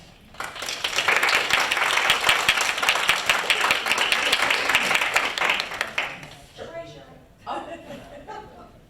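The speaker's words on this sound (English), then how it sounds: "Let's give another round of applause for our leader" At a reunion boot camp gathering, a crowd applauds its leader in a loud, sustained burst of many clapping hands. The applause fades after several seconds into scattered claps, chuckles and chatter.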